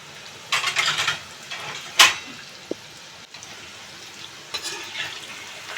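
Palm fritters (taler fulori) fry in hot oil with a low, steady crackling sizzle, broken by a few brief louder spits and splashes as pieces are turned.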